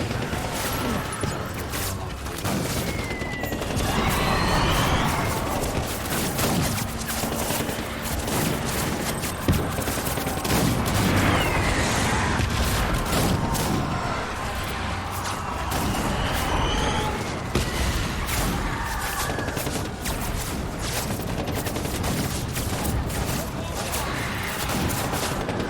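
Dense, continuous gunfire and explosions rage in the video game Death Stranding, rapid overlapping shots and booms filling the scene throughout, with a voice talking underneath.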